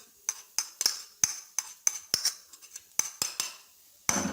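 A spoon mixes pizza dosa topping, striking the metal in about a dozen sharp, close clinks at an uneven pace, with no voices.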